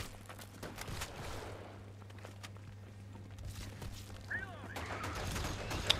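Video game gunfire comes as a rapid fusillade of shots over a steady low hum, with a voice heard between the bursts.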